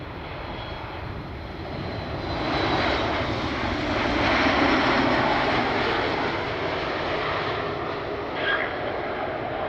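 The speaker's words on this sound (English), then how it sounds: "Southwest 4499 inbound from Baltimore." Southwest airliner jet engines on inbound approach to Cleveland from Baltimore, a broad roar swelling as it nears and passes overhead, then slowly easing off, with no talk.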